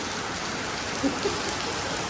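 Rain falls in Dubai, a loud, dense, continuous wash of drops hitting surfaces nearby, with a couple of slightly heavier splashes partway through.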